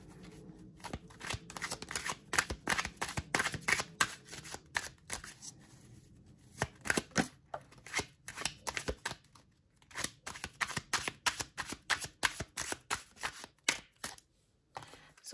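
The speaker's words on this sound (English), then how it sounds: "These cards are a little stiff, so it's a little harder to shuffle them." Rapid, riffling clicks of stiff playing cards being shuffled, in bursts with short pauses, close and fairly loud with no talking.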